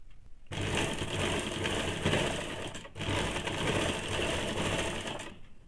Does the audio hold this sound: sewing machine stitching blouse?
yes